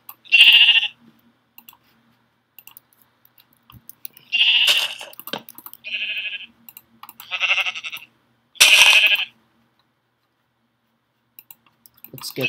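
Sheep in the video game Minecraft bleat in five separate short bursts spread across the stretch, each clear and close, with faint clicking in the quiet gaps and no talking.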